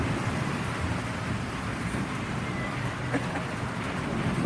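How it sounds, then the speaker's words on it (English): Heavy rain with hail in Parkes: a dense, continuous hiss and patter of precipitation striking surfaces, steady and fairly close, with no voices. "The rain is so bad here."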